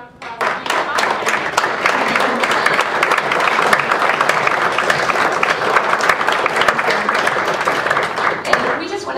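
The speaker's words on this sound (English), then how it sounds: "let's give them a round of applause" Audience applause at a university student government senate meeting, loud, dense clapping from a crowd that starts abruptly and continues steadily for several seconds with a few voices mixed in.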